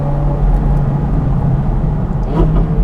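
A Ferrari 458 Speciale engine drones loud and close from inside the car, with a brief dip and rise near the end that fits a gear shift.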